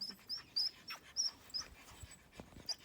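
A village dog breathing near the microphone, with quick faint panting puffs and soft high whimpers repeating in an uneven rhythm.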